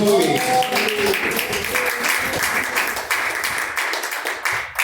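Church congregation clapping for Jesus during a worship service, a busy patter of hands, loud and near, with voices mixed in.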